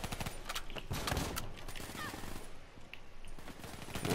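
Rapid bursts of automatic gunfire in the Black Ops III campaign, crackling repeatedly and steadily over a busy game soundscape, with a voice talking over it.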